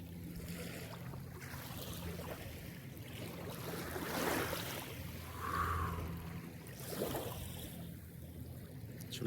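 Small waves lapping on Lake Tahoe's shore, a soft steady wash of water with a few gentle swells rising and falling, close and quiet with no voices.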